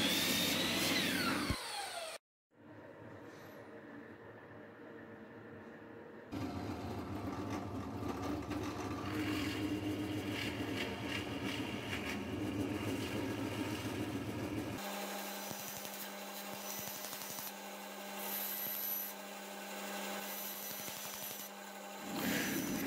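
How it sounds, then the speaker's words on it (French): A band saw with a coarse, wide-set ripping blade runs with a steady mechanical drone as it cuts through plywood, stopping briefly before resuming for a long, continuous stretch. "J'ai gardé ma lame de débit, donc elle est assez avoyée, donc j'arrive comme ça à faire le travail"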